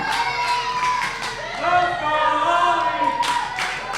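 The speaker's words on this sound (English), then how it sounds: "This crowd cheering for Hawlee Cromwell." A wrestling crowd cheers for Hawlee Cromwell during a match against Laynie Luck: sustained cheering and scattered clapping fill the room, with raised voices and shouts layered over the steady crowd noise.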